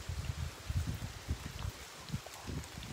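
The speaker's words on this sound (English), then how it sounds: "That is such a hard rain right there." Heavy rain in Livermore, California, patters and splashes steadily outdoors, a dense wash of drops with low rumbling gusts beneath it.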